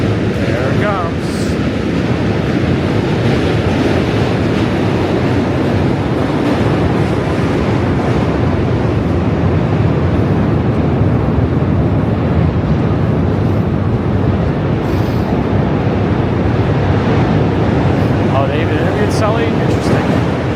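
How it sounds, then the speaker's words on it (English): A train crossing the Manhattan Bridge in New York City makes a loud, steady roaring rumble that fills the whole stretch, blended with gusty wind noise. "Let's see if we get our ears affected by a train."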